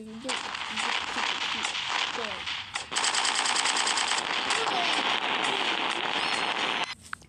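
Rapid, continuous gunfire bursts from a shooting video game fill the clip, loud and dense with short pauses, and a voice talks faintly underneath.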